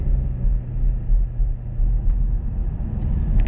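A car on a driving lesson pulls away from a stop sign on a town street in Cambridge, Ontario, its engine a low, steady rumble heard from inside the cabin, with a few faint clicks toward the end.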